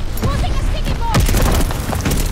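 A sticky bomb detonates in the video game Call of Duty: Vanguard, a loud booming blast with a burst of noise amid ongoing game sounds and gunfire, while a voice speaks over it.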